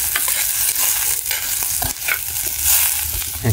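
Pacayas (tepejilotes) and onion sizzle steadily in a hot pan, a close, continuous crackle with small pops scattered throughout.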